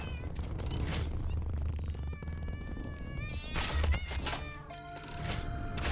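A creature in the Satisfactory video game meows repeatedly with wavering, whiny calls over a steady low game hum, fairly close and moderately loud.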